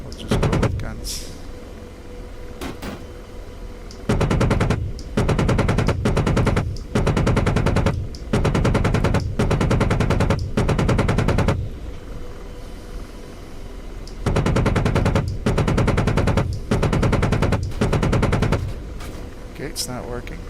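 Automatic gunfire in a helicopter combat game, a Longbow gunship with fire-control radar, rattling loud in long sustained bursts separated by short pauses, with someone talking between and over the shooting.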